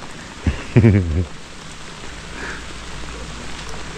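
Rain falling on a camping shelter made like a blanket fort in the woods, a steady close patter and hiss that continues after a brief burst of someone talking near the start.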